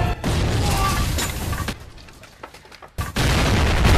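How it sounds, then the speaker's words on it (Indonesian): Hand grenade explosions burst loud and close, dense booming blasts with crashing debris, dropping into a brief lull before another heavy burst erupts. "Kebanyakan milisi Burma sangat nekat melempar bom tangan dari jarak dekat."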